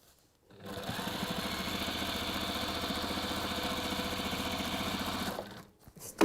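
A sewing machine runs steadily for about five seconds as fabric and lining feed through in a straight line, its fast even motor chatter close and loud, starting and stopping cleanly with brief quiet at either end.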